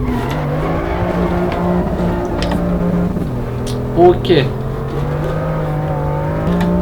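A BMW M2 drifting in the racing game Assetto Corsa EVO, its engine holding a loud steady drone that drops in pitch as gears change, with a brief tire chirp midway and a voice talking over it.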